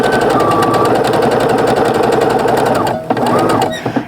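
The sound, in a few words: sewing machine sewing a mug rug seam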